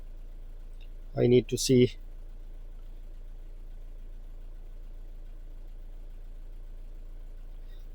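A 2017 Renault Trafic van with a blocked DPF idles with a steady, low, continuous engine hum throughout, while a voice talks briefly near the start.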